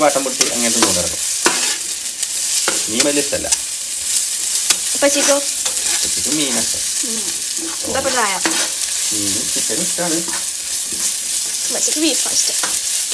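Onions fry loudly in a pan for a chicken curry, a continuous sizzle broken by frequent scraping strokes of a spoon stirring them, close and with no talking.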